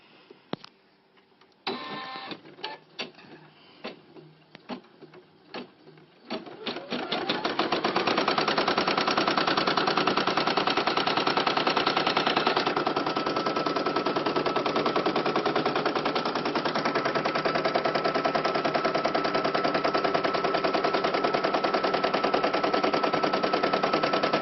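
After a few seconds of scattered clicks, an embroidery sewing machine stitches a red thread outline in a steady, loud, fast mechanical chatter that holds for about twenty seconds, with no talking.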